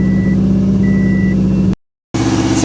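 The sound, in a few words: Subaru WRX engine idling high and revving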